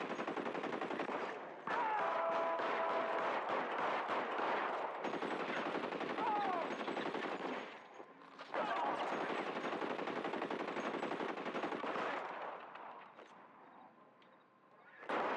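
Gunfire in a video game shootout against gangsters, a loud, dense stream of rapid machine-gun bursts broken by a few short gaps, fading near the end.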